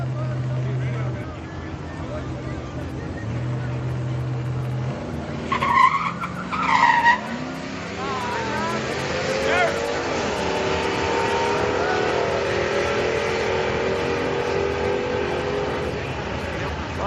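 Friday night street car drag racing, with a Chevy beating a Toyota in the right lane: engines roaring and revving at a distance under crowd noise, a brief screech of tires, and someone commentating over it.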